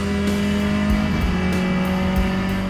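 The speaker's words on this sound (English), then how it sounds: "It's a race transmission, there's a heavy whine, it comes from the straight cut gears and all of that." Interior of a 2018 Volkswagen Vento race car with a steady, loud straight-cut gear transmission whine droning throughout over constant engine and road roar, without a break.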